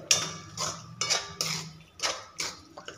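A spoon scrapes and taps against a metal pot while mint leaves are stirred into paneer biryani, giving about six evenly spaced clinks and scrapes close by, with no talking.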